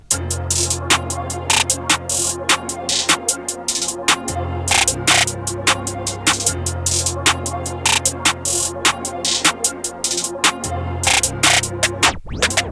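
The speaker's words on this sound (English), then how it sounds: "then I added this hi-hat from my kit" A programmed hi-hat pattern for a trap beat ticks along in quick, steady bursts over a sustained low bass tone, with some hits accented louder than others.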